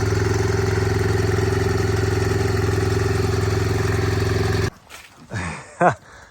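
A vehicle engine idles steadily with a low, even hum and exhaust burning off, then cuts out abruptly, leaving short voices and scuffs near the end.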